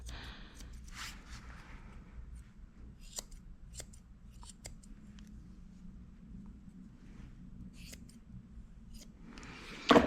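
Scissors trimming a dog's fur short: crisp, close snips scattered over a low steady room hum, with a louder cluster of cuts at the very end and no talking.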